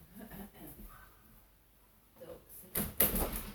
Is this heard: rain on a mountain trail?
no